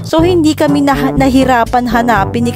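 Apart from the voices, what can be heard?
No distinct noise like a dog, phone or traffic.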